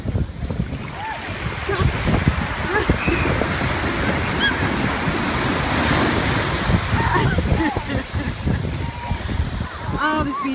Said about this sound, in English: Here comes bigger waves.